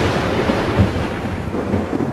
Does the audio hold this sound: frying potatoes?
no